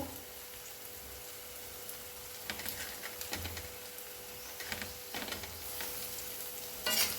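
Garlic and curry leaves fry in a pan, giving a steady close sizzle with scattered scraping stirs and light clinks from a utensil, no voices.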